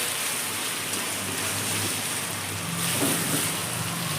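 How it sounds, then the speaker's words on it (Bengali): Chicken frying in a pan with onions and turmeric gives a steady, dense sizzle that stays even throughout at close range. "দেখুন চিকেনটা আমি পেঁয়াজের সঙ্গে খুব ভালো করে ভেজে নিলাম।"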